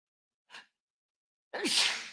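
A single sharp sneeze bursts out loudly after a short faint sound and a moment of silence.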